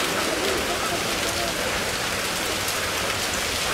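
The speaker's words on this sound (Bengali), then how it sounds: "জেলায় জেলায় কালবৈশাখী ঝড় বৃষ্টি" Heavy rain from a Kalbaishakhi storm in Bangladesh pours down in a dense, unbroken hiss, drumming loudly and evenly on surfaces close by with no pause.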